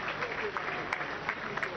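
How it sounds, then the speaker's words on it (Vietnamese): Steady applause from a crowd, dense and continuous clapping filling the whole moment with no pauses. "Hãy vỗ tay cho Chúa Giêsu Christ khi cô ấy đang tiến ra."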